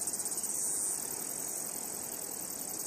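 Cicadas sing on Mount Maunganui on a hot summer day: a dense, continuous high-pitched buzzing chorus that pulses briefly at first, then holds steady and fairly faint, alone without voices.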